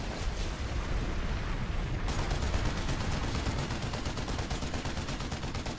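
Rapid, dense automatic gunfire rattles continuously while shooting down a turret in Planetside 2, loud and close, with a sharper, faster burst pattern kicking in after about two seconds.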